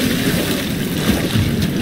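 Sloshing water waves in the horror game Amnesia: The Dark Descent, a steady broadband wash with low rumble and airy hiss running continuously under the scene without a break.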